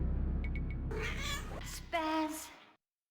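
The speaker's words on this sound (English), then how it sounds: "Wonder if they use the real cat noises." A cat meows in the 1990s horror video game Phantasmagoria, a couple of drawn-out, wavering cries that follow a few small clicks and are close and clear.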